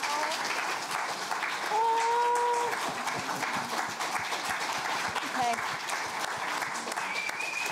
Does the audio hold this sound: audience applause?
yes